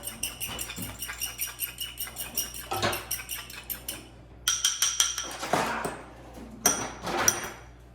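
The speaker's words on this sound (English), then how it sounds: "I'm just gonna take the eggs here and just whisk them up, real uniform." Eggs whisked in a bowl, rapid rhythmic clinking of a whisk or fork against the side, close and fairly loud, with a couple of brief pauses and clattering knocks between bursts.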